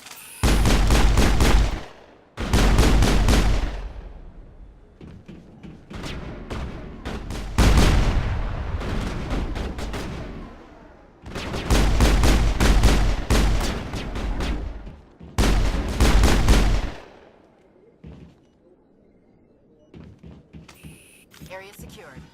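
Heavy gunfire in a firefight in the video game Mass Effect: loud, close bursts of shots and booming blasts come in repeated waves, several seconds each, with brief quieter gaps.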